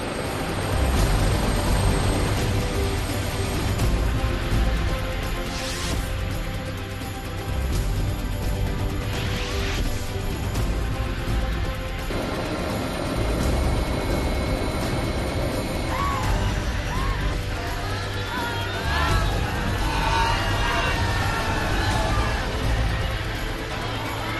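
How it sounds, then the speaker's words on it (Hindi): A helicopter carrying Rajnath Singh lifts off from Chiraiya in Bihar's East Champaran during an election campaign. A loud, constant rotor and engine roar fills the whole stretch, with shifting noise from the crowd and the surroundings. "चिरैया से राजनाथ सिंह के हेलीकॉप्टर ने पूर्वी चंपारण के सुगौली के लिए उड़ान भरी"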